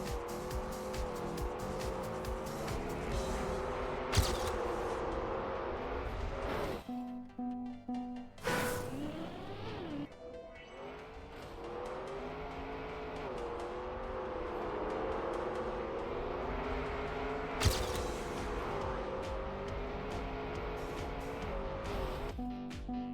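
Desert car racing in Trackmania: a continuously revving game engine rising and falling through gear shifts, with brief tire squeals and skids on sharp turns and a few short bursts of crash or landing noise.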